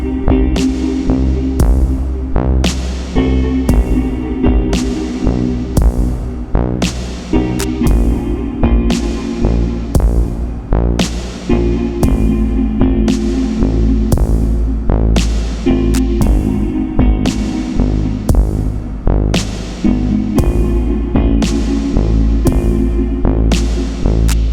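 A track from the video game Oxenfree, a pulsing electronic piece with a regular throbbing beat and sustained low hum, loud and steady with no voices.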